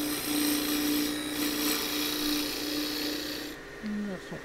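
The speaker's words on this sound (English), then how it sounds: "I'm going to come down with the deep fluted bowl gouge" A 1/4 inch deep fluted bowl gouge cuts wood on a lathe while turning a Christmas bell, giving a steady close rasping scrape with a faint underlying hum before the cut eases off near the end.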